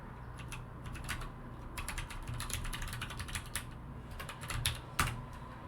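Rapid clicking of keys on a computer keyboard, close and steady with short bursts and brief pauses throughout, with no voices.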